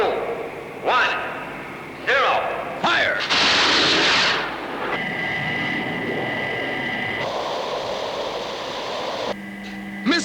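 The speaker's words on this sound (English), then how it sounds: "Trigger interceptor missiles." Interceptor missiles launching in the Thunderbirds puppet TV series: a series of whooshing, rushing launch blasts with rising swoops, followed by a sustained high mechanical drone and tones, all loud and close.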